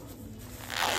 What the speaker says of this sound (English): He just unzippered my jacket.